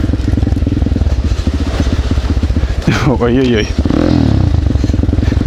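A pit bike engine buzzes loud and steady while riding at a relaxed pace in an enduro group, with brief speech and a short exclamation over the continuous revving.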